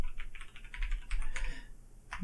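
Fingers typing a password on a computer keyboard, giving a quick, uneven run of soft, close key clicks with a short pause midway.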